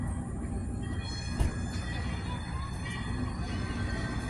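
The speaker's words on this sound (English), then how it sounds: "the locomotive is moving off the turntable. And it's gonna couple to the front of the train." Western Maryland Scenic Railroad locomotive rolling off the turntable to couple onto the front of its train, a steady low rumble of engine and wheels, with a brief clunk or squeal partway through and faint wind or crowd noise around it.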